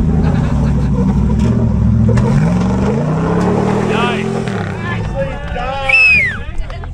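A Jeep's engine revs and strains as it works through an offroad obstacle gate, heard at a distance under crowd chatter and excited commentary, the pitch rising and falling with throttle.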